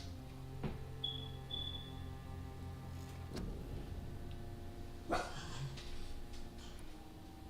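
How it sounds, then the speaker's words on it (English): A dog barks a few times, sharp isolated woofs spaced over several seconds against a steady low hum and faint background noise, fairly close and moderately loud, with no talking. "No, Jonah, do not start barking again."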